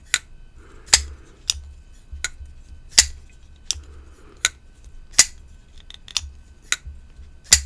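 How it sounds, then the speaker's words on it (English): Kizer Uprising folding knife snapping into lockup and closing, a string of about ten sharp metallic clicks and tings spaced roughly every half second to second, close and crisp over quiet handling noise. "Great sound on the lockup, too. Can y'all hear that? That click, click."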